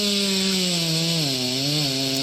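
A chainsaw held still on the ground while being started, its engine catching and running as a loud, steady buzzing drone with a slight dip in pitch partway through, no voices present.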